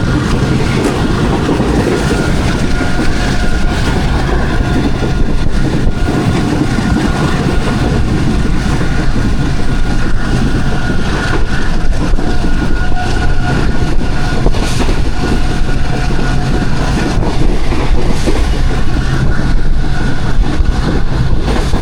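Pakistani passenger train, the 33 Up Business Express, gaining speed: a loud, continuous rumble of wheels on rails with rhythmic clickety-clack and engine drone, heard from on board.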